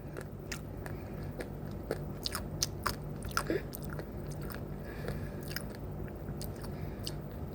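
Dubai chocolate bitten and chewed up close, with repeated small crunches and soft chewing sounds in an irregular rhythm over a steady low background hum, no talking.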